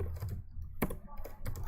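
Quick, irregular clatter of keys on a computer keyboard while code is typed, close and fairly quiet, with a couple of sharper taps standing out.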